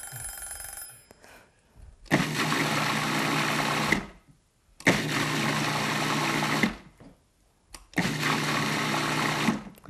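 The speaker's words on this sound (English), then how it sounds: "We're going to just whisk it a couple times" A mixture for a Beef Wellington being whisked in a bowl, heard as three loud, steady bursts of roughly two seconds each, separated by short pauses, with no talk.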